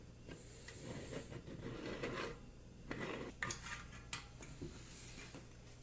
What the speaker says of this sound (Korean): 자, 그리고 이제 이 위에 뚜껑 부분을 잘 결합해 줍니다